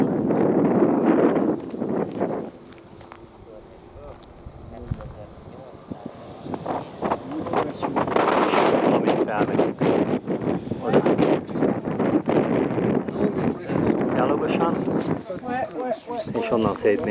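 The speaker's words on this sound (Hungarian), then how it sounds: "rettenetesen fúj a szél." Strong wind buffeting the microphone at the Col de la Bonette mountain pass, loud rumbling gusts that rise and fall with a lull in the middle, while someone talks over it.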